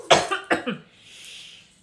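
Two or three harsh coughs in quick succession, close and fairly loud, followed by a faint hiss of background noise.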